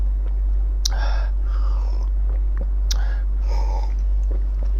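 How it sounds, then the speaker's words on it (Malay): Black seed (habbatus sauda) is chewed close to the mic, with two sharp bite-like clicks and soft crunching, wet mastication sounds over a steady low hum, no clear speech. "Nak kunyah boleh, nak hisap boleh,"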